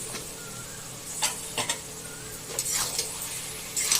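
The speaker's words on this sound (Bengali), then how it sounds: "এখন এগুলো সব মিশিয়ে ভালো করে ভেজে নেব" Mushroom, potato and paneer sizzle steadily in a pan while a utensil stirs them, giving scraping strokes at irregular moments over the constant frying hiss; close and moderately quiet, with no talking.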